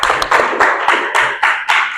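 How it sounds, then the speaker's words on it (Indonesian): A student group in a classroom gets a round of applause, loud, close rhythmic clapping in quick repeated bursts, with no talking. "Tepuk tangan."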